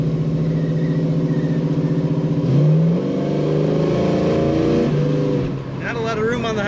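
A 1970 Dodge Challenger R/T V8 revs under throttle on the highway, a loud steady engine drone that rises in pitch partway through, with tire and road noise beneath and faint voice-like sounds mixed in.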